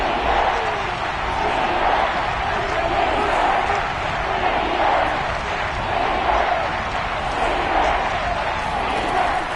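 A steady stadium crowd roars in a Madden football video game on PS5, a constant wash of distant cheering that swells slightly at moments.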